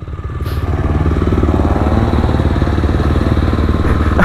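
A KTM SMC 690 motorcycle engine runs close and loud, its deep single-cylinder rumble swelling as the throttle rises and holding at a steady high rev.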